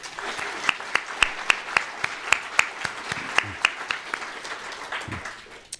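Audience at a shareholder information meeting in Anchorage, Alaska applauding staff, a moderate wash of clapping with sharp individual claps standing out near the mic, fading toward the end.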